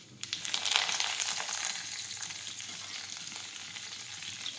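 Curry leaves dropped into hot oil with sesame seeds for tempering, a sudden loud crackling burst that settles into a steady close sizzle.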